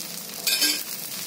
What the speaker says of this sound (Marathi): मी साईडला थोडं थेंब तेल सोडते, थोडं चमच्याने